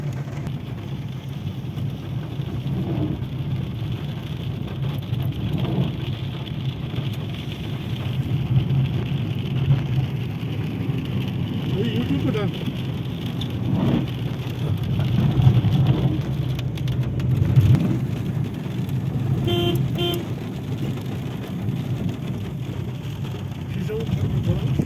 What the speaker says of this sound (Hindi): अब बारिश थोड़ा कम हो गई है।